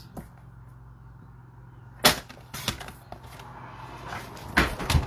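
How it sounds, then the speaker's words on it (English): A few sharp wooden knocks and scrapes, like a chair shifting on the floor, two loud clatters separated by quiet. "my chair made too much noise."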